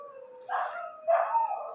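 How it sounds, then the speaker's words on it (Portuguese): Dogs howl in two drawn-out, wavering cries, the second a little louder, heard close and clear with no talking over them. "Mas logo os cachorros vão chorar logo agora, né?"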